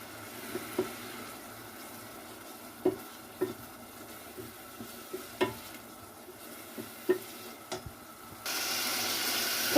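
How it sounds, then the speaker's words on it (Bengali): Masala with ginger paste and salt is fried and stirred in a pan, with a low sizzle under a run of sharp spoon scrapes and taps at irregular intervals, and no voice over it. "এমন ভালোভাবে মশলাটা আমি কষিয়ে নেব"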